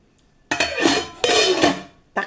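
A utensil stirs garlic, salt, vegetable seasoning and ground black pepper through duck meat in a pot for a Filipino duck adobo, giving two long bursts of scraping and clinking against the metal, then a brief third stroke.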